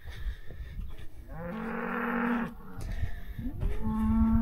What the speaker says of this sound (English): And the cows are reminding me that, like, hey, remember us?